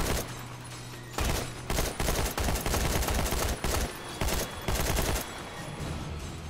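Rapid bursts of gunfire from The Walking Dead: Survival Instinct video game, loud volleys of shots fired in several quick runs with brief gaps between them.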